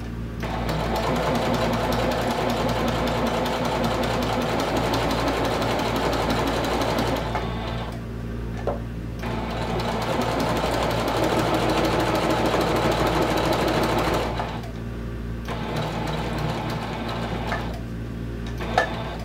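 A domestic sewing machine stitches vinyl for a clutch wallet in a loud, steady rapid whir, pausing briefly twice before running on again.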